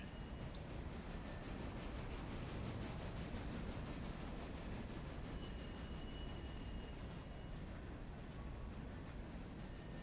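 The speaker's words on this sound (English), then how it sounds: "that the passenger train's just now leaving" A departing passenger train rumbles steadily in the distance with a low continuous roar and faint rail noise, and no voices are heard.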